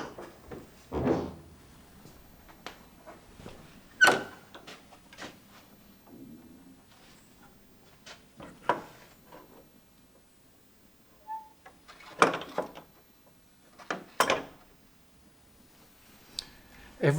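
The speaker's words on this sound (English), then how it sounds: "Every church door has a very distinctive sound, and that one is particularly charming." An old church door creaking and thudding as it swings open and shut, with a series of sharp latch clicks and knocks spread irregularly over several seconds, close by in a quiet interior.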